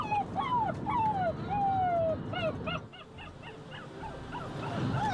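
A dog whimpers and yips inside a kennel, with a run of rising and falling whines, then shorter yelps, heard close over a steady background hum.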